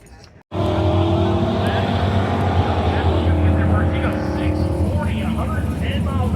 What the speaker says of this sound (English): Pickup truck. That's a good lap for him on the outside, 781.